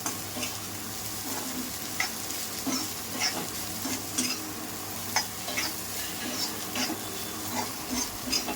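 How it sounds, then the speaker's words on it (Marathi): Sliced okra sizzles softly in oil in a pan while a spoon stirs it in repeated light scrapes and taps, close and quiet, with no voices. "छान असं सगळं भेंडीला तेल लागायला पाहिजे, असं छान फिरून घ्या."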